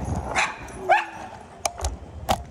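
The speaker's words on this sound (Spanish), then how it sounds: "esos perritos que por ahí se escucharon" Several dogs bark and yip on a New York City street, with short sharp barks at irregular intervals over quiet street ambience at moderate distance.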